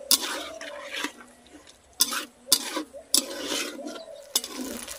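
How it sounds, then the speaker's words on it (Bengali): Spice paste for a duck curry frying in a pan with a little water, a soft sizzle broken by several sharp scrapes and knocks of a spoon at irregular intervals. "এবার মশলাকে কিন্তু কষিয়ে নেব।"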